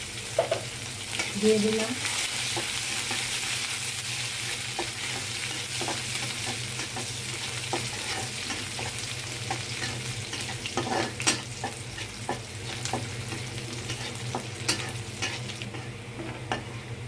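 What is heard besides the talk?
frying chopped garlic and onion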